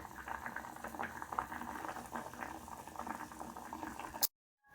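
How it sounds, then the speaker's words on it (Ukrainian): A pot of potatoes boils steadily, a close bubbling and popping burble that continues evenly before cutting off abruptly. "От як гарна картопелька у нас вже кипить"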